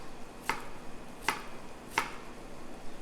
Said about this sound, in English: we're going to just do it like we did the white onion, where we cut along with those lines